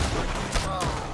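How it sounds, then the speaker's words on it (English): Gunfire rings out in Red Dead Redemption 2 during a bounty hunter fight, a few sharp close shots cracking over busy game noise, fairly loud with no voices over them. "I don't like the sound of gunfire either"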